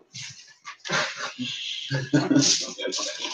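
A dog whimpers and yips in short, high whining bursts, close by, with people talking over and around it.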